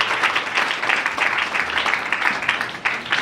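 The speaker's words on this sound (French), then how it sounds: "Acclamons pour le Seigneur Jésus." A church congregation claps and cheers for the Lord Jesus in a sustained, dense burst of applause that fills the room steadily throughout, with no pause or break.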